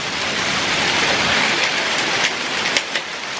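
Hail pelts a car during a severe hailstorm, a dense, loud, continuous drumming on the body and roof, with a few sharper individual impacts standing out toward the end and no talking.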